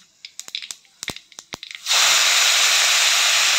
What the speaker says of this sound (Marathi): लसूण चांगलं आपलं फोडणी होऊ द्यायचं आहे.